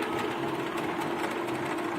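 A DC machine on a lab demonstration bench runs after being switched on, giving a steady, even mechanical hum with a faint rapid rattle and no pauses.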